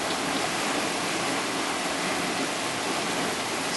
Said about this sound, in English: Storm sewer isn't big enough to hold the amount of water that's coming through on the line.